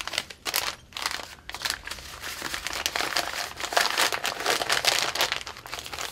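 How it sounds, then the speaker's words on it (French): Documents, including a contract, passport copy and bank details, slid into a padded bubble envelope, making continuous close crinkling and rustling of plastic and paper for several seconds. "avec le contrat, vous l'introduisez dans l'enveloppe matelassée."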